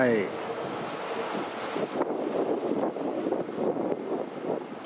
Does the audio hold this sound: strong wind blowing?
yes